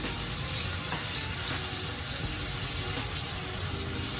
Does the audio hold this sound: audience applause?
no